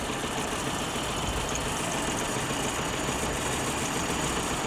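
The engine of a 1994 Suzuki Samurai idles steadily, a constant low rumble and hum that never changes pace, with no voices over it.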